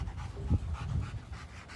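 A male German Shepherd pants in steady, rhythmic breaths, close and fairly loud, during obedience and handler-defence guard training.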